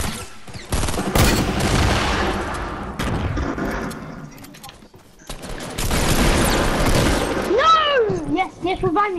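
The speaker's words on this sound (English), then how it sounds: "And they're throwing grenades." Rapid bursts of gunfire and grenade explosions in the video game Fortnite, loud and dense with booming blasts throughout, with a voice talking over the battle near the end.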